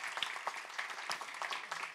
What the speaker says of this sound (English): everyone please give him a round of applause